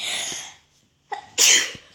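A person sneezes at close range: a breathy hiss fades out, then after a brief silence a sharp inhale leads into one explosive sneeze, with no talking.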